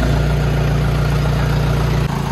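A tractor engine idles steadily and loudly up close, a continuous low rumble with no talk over it, shifting slightly in tone near the end.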